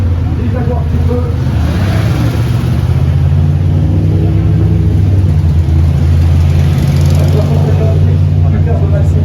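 A Jaguar racing car engine growls on a motor racing circuit, a loud, sustained low rumble that builds as it accelerates, with a commentator talking over it.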